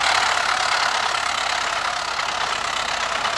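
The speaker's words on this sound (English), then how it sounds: "GE999 coaches engine is back on the track." GE999 locomotive engine idling in the Trainz Android train game, a steady, loud, unbroken mechanical drone with a hissy upper layer and no talking.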